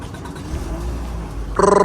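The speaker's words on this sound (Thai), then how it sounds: "ขอฟังเสียงเครื่องยนต์หน่อย" A 2007 Toyota Wish engine idles with a low steady rumble, then something kicks in near the end, adding a louder pulsing whine.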